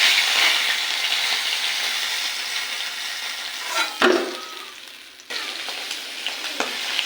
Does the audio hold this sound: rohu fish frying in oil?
yes